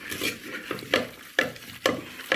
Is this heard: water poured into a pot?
no